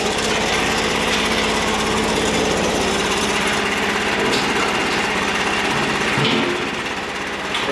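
Small Sears Suburban garden tractor engine idling steadily with a fast, even mechanical chatter, close and continuous, dipping briefly near the end.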